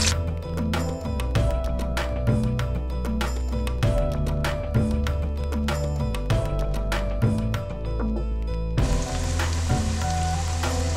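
Cinnamon, cloves and large onions frying in hot oil for seeraga samba mutton biryani, a steady close sizzle with sharp crackles and spatters throughout, and a brighter hiss rising near the end.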